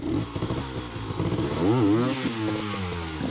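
A hard enduro dirt bike climbs uphill on rough terrain, its engine revving and rising in pitch with a strong surge midway, loud and nearby amid clattering.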